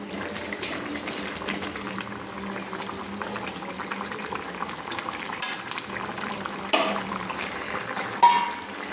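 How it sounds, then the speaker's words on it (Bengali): A spatula stirs a silver carp curry with drumsticks simmering in a pan, with a steady low bubbling and sizzle and a few soft scrapes and knocks near the end. No one speaks. "খুন্তি দিয়ে আমি নেড়ে নিলাম।"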